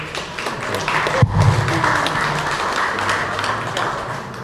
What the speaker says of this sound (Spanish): el licenciado Ramón Navarrete Magdaleno, para quien pido un aplauso, por favor